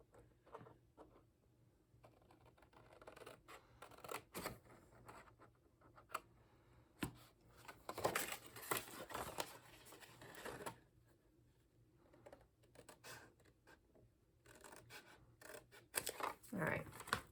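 Scissors snip around a paper envelope for a shaker card, a close sequence of crisp cuts and paper rustles that comes in bursts, with a voice talking throughout.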